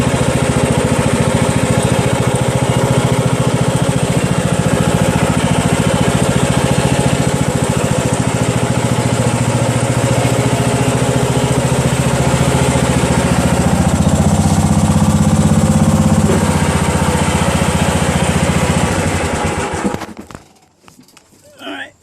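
Craftsman DLS3500 riding lawn tractor with a 20HP Briggs Intek engine driving in a garage, a loud steady close-up engine drone that holds for about twenty seconds before shutting down and fading out.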